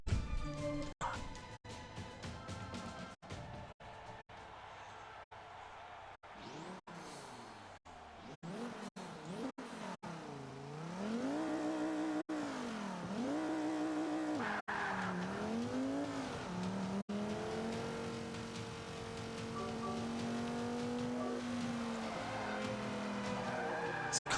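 A race car in a video game revs hard and skids, its engine note sweeping up and down with repeated gear shifts while tires squeal through long slides, loud and continuous.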